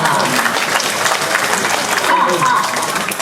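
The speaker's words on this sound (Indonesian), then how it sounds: "Tepuk tangan." A crowd applauding at a Bali arts festival performance, with loud, dense clapping and crowd noise, mixed with voices, continuing throughout.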